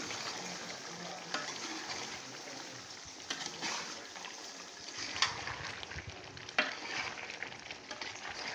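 Chicken curry being stirred in a pan: a soft continuous sizzle with scraping and occasional clinks of a spoon against the pan, fairly close and steady throughout, no talk.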